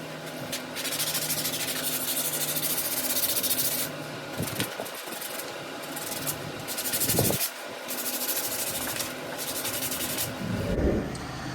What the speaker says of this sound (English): take some 220 and just kind of sand over all the rough edges